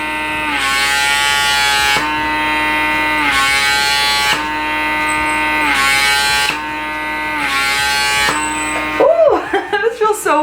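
A PMD personal microderm device runs with suction, giving a loud, close electric buzz in repeated bursts whose pitch dips and rises as it is pressed and lifted, then a scuffing handling noise at the end.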